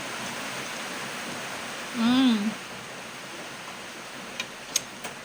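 Steady, soft rain hisses continuously as a diffuse wash of noise, with a brief voice or tone rising over it midway and a few faint ticks near the end.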